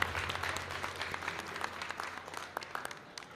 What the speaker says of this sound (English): Another round of applause for our young people